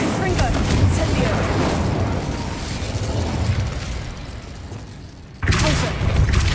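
Spell-cast explosions and fiery bursts from Hogwarts Legacy gameplay rumble through a dense, loud stretch, easing briefly before a sharp new blast near the end, with game audio layered throughout.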